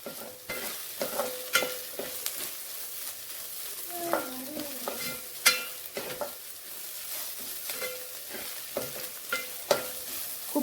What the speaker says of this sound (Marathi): आलं लसूणची पेस्ट चांगली परतून घ्यायची